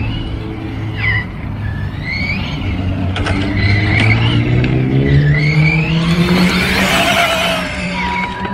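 Reely RC car accelerating at full throttle outdoors on a short run, a loud, steady high-pitched motor whine rising in pitch over several seconds with tire scrabble, close and continuous, no talk.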